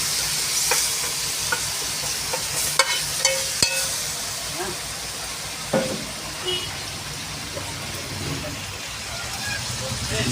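Adobong pata ingredients sautéing in a pan outdoors, a continuous close sizzle with scattered clinks and stirring knocks, while people talk nearby.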